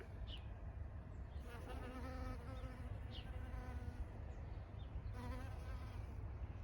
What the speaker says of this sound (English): I have lots of bees behind me because these blueberries are in bloom and they're loving it